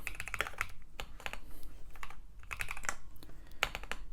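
Steady typing on a Lofree Block 98 retro-style keyboard, crisp clacking keystrokes in an irregular rhythm, close and fairly quiet, with no talking.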